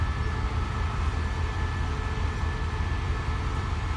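A steady low rumble of a Special Express train rolling out of Bangkok's Hua Lamphong station from platform 4, continuous and fairly loud, with a faint high whine on top and no talk.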